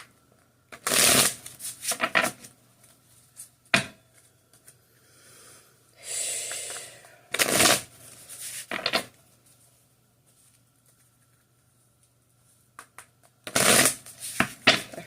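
Tarot cards are shuffled by hand in several separate bursts of crisp riffling and flicking, close and clear, with quiet gaps between them and a faint steady hum underneath.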